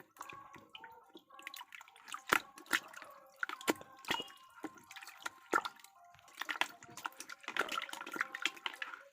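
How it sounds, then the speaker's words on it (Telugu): Saree fabric is dipped and soaked in water, giving close, irregular splashes, drips and sloshing that rise and fall in loose bursts, with no talking. "కొంచెం వాటర్ తెచ్చుకొని ఇలా ముంచేసుకోవాలి"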